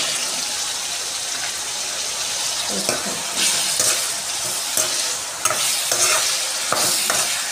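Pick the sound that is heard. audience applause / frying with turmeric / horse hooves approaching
frying with turmeric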